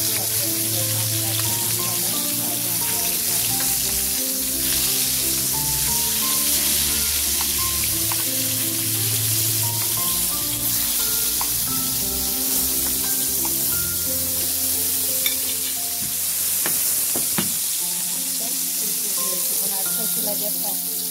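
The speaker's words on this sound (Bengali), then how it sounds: "তারপরে সবগুলো মাছ ভাজার জন্য দিয়ে দিয়েছি।" Fish fry in hot oil in a wok, giving a continuous close sizzle and crackle with occasional faint stirring.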